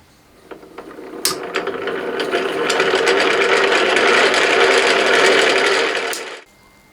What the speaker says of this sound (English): Let's wind the other coil.